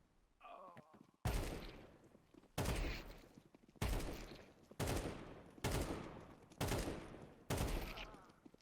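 An AK rifle fires in Counter-Strike 2 as seven or so sharp, loud single shots spaced about a second apart, each with a short decaying tail.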